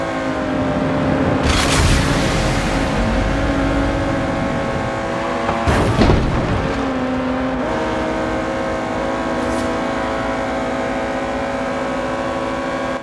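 Supercars race in Forza Horizon 3's Hot Wheels expansion, a steady loud engine drone with sustained revving tones and a couple of sharp bursts as cars shift or pass, with no voices.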